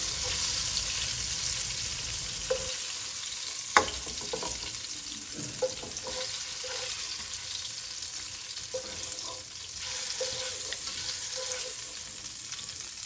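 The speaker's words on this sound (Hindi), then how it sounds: "तो यहाँ पर मैंने जल्दी जल्दी से इसको फ्राई कर लिया है और अब मैं इसको निकाल रही हूँ।" Fish for a tandoori fish curry sizzles steadily in hot oil in a pan, a constant loud frying hiss with scattered clinks and scrapes as pieces are lifted out.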